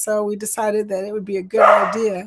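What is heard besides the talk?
dog barking in the background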